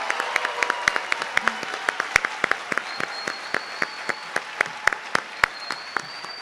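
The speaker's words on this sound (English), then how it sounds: "let's have one large round of applause for all of our inductees with us today." A seated audience at an induction ceremony breaks into a long round of applause, steady sharp claps continuing throughout, fairly close and fairly loud, with no talking over it.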